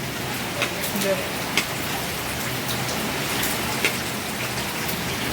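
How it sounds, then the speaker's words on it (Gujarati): Heavy monsoon rain falls during a storm in Surendranagar, a dense continuous hiss of drops on surfaces with a few louder splatters, close and steady throughout. "એવો વરસાદ આવે છે"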